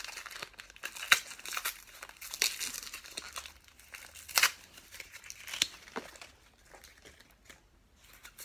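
A wrapped package being torn open by hand without scissors, with paper crinkling and tearing in uneven bursts, some sharper rips standing out, close and fairly quiet with no voices.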